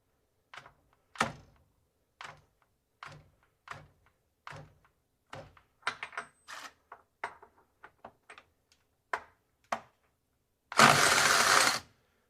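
A Milwaukee M12 FUEL extended reach ratchet breaks a bolt free: a run of sharp, evenly spaced mechanical clicks and thunks, then a brief loud buzzing burst of the motor spinning near the end, with no talk.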